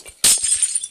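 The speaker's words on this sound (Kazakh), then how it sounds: "Терезе сындырып барайын." Window glass breaks with one sudden, loud, bright crash, followed by a tinkling scatter of shards that fades over the next fraction of a second.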